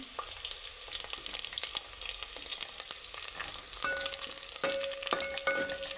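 Dry red chilies fry on a low flame with a soft, continuous sizzle and scattered pops and crackles, fairly quiet and close, no talking.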